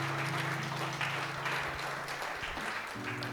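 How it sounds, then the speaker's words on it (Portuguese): A church congregation claps together through a steady, moderate wash of applause, with sustained keyboard chords holding underneath the whole time. "Dá uma salva de palmas para Jesus aí"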